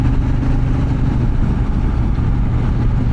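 Motorcycle riding a winding road in Slovenia, a steady loud engine drone with heavy low rumble and wind, close and continuous with no break.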